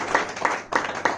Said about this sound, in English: a round of applause for the person